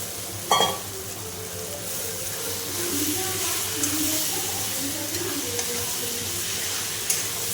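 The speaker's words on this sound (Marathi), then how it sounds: "सर्व मिक्स करून घ्यायचं आहे आणि दोन मिनिट आपल्याला हे चांगलं परतून घ्यायचं आहे" Leftover cooked rice being stir-fried in a pan for Indian-style fried rice, a steady sizzle running throughout with scraping stirs and a few clinks of the spatula, heard close and alone.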